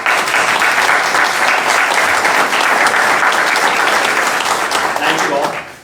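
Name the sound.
audience applause at council meeting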